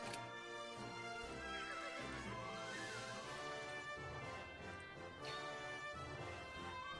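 A wild horse in the video game The World is your Weapon neighs and whinnies over clip-clopping hooves and game sounds, loud and sustained for several seconds with no talk.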